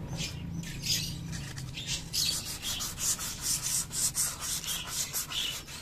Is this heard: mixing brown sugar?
no